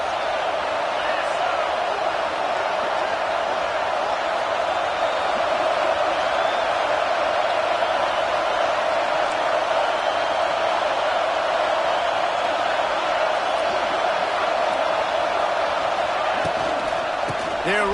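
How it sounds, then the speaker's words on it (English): A stadium crowd in a college football video game roars steadily throughout, a dense, continuous wash of cheering and noise. "Man, this crowd really affecting the football game."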